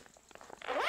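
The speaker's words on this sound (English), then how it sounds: "All the zips are YKK zippers." YKK zipper on a Helikon-Tex Summit backpack, pulled in a quick close run of small ticks that swells into a smooth rising zip at the end.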